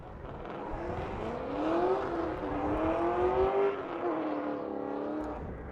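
A drift car in qualifying at the Holley LS Fest West drift challenge drones close by, its engine note rising and wavering as the throttle is worked, with no voices over it.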